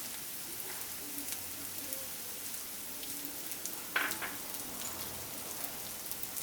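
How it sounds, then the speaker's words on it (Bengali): Onions, carrots and beans fry in a pan over low heat, a soft, steady sizzle with a brief clatter partway through. "এখন এগুলোকে একটু ভেজে নেব, খুব বেশি কিন্তু ডিপ ফ্রাই করব না।"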